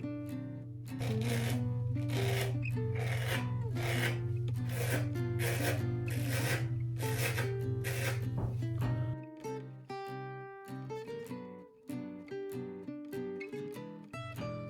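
A Taisoto Duo razor is drawn across skin in a steady run of close, rasping strokes about twice a second, with a low tonal hum running beneath them.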